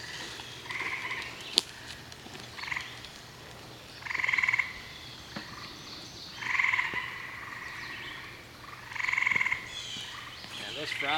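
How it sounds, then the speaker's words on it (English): Frogs croaking outdoors during work on a deer fence, several bursts of calls rising and falling over about eleven seconds, moderately distant and fairly faint against a quiet background, with no speech. "Yeah, those frogs are happy right now for some reason."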